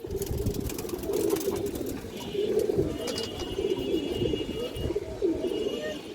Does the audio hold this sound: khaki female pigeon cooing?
yes